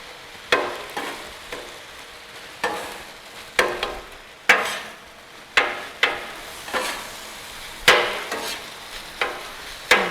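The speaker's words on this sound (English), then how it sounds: "Get the soy sauce mixed in there good." Soy sauce is stirred into chicken fried rice on a Blackstone griddle. A metal spatula scrapes and taps the hot flat-top about a dozen times in an uneven rhythm over a soft sizzle, with no speech.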